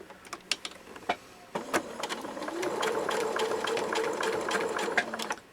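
A sewing machine stitches a fabric lanyard folded over a ring, starting with a few short bursts and then running in a steady, continuous mechanical whir up close.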